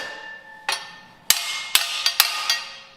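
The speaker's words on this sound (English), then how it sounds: "You can either give it a tap with a hammer" A hammer taps a bolt through the metal frame of a weed burner incinerator in five sharp, ringing metallic strikes at uneven intervals, close and clear with no voices.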